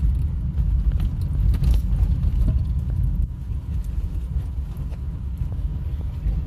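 A short-wheelbase car rolls over a rough concrete street, giving a steady, loud low rumble of tire and road noise that stays continuous throughout, with a slight dip midway and no talk.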